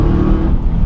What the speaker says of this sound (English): when you really come on the boost, it sort of does like a rush sound through the Hayward Scott centre pipe and the ProDrive backbox